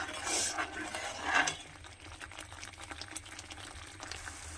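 Masala paste thinned with water heats in a pan for a beef curry, giving a soft, steady bubbling and sputter, louder at first and then settling into a low continuous simmer, close by with no voices.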